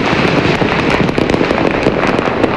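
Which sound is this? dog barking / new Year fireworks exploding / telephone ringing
new Year fireworks exploding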